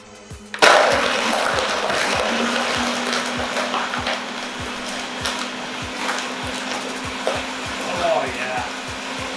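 Blender pulsing a smoothie of ice, Greek yogurt and milk, a loud steady motor roar with rhythmic grinding thumps of ice throughout, starting abruptly after a brief quiet moment.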